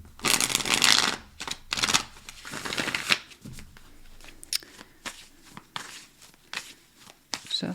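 Tarot cards shuffled in quick riffling bursts, a long dense run at the start followed by shorter crisp flicks and taps, close up with no talking.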